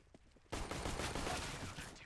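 Dense burst of CS:GO gunfire starts abruptly after a quiet half second, a loud sustained volley of overlapping shots during a competitive finals round, with faint commentary beneath.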